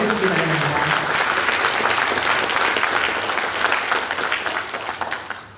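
An audience at the opening ceremony of the Jeju Halla–Severance joint medical center in a university convention hall bursts into loud, full applause that holds steady and then fades near the end, with a voice briefly audible at the start.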